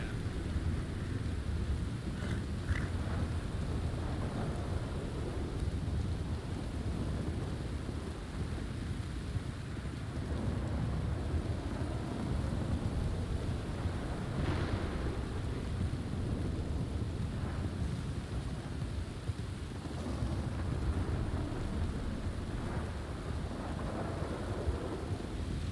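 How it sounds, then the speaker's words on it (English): Stormy weather in a Wild RP stream game scene: a steady wash of wind and rain rumbles throughout with low thunder swells, constant and moderately loud, with no talking over it. "We could really do without this fucking storm right now."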